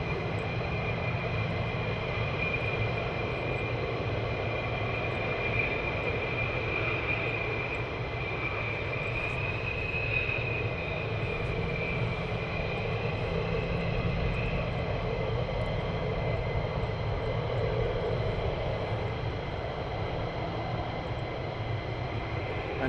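A military jet flying at RAF Lakenheath, heard as a steady, sustained roar with a whining tone running through it, holding at a constant level with no clear approach or fade and no talk over it.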